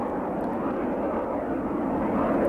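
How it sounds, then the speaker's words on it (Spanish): An F-117A Nighthawk stealth aircraft flies overhead, a steady, broad engine roar that swells slightly toward the end, heard alone without voices. "F-117A Nighthawk estadounidenses que destruían objetivos estratégicos clave."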